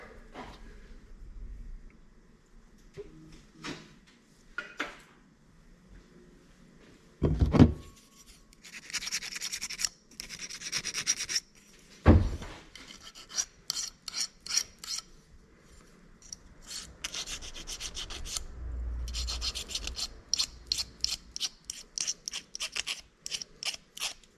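Electrical connections on a 1978 Chevy C10 being rubbed clean, intermittent scraping and rasping strokes in short bursts with pauses and a couple of louder knocks, close and fairly quiet.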